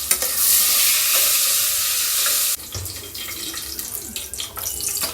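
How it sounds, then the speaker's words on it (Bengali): Potatoes fry in a pressure cooker with a loud, hissing sizzle that suddenly drops to a quieter crackle midway, broken by occasional stirring clatter. "কুকারের মধ্যে আলুগুলো দিয়ে দিয়েছি, ফ্রাই করবে মা এখন।"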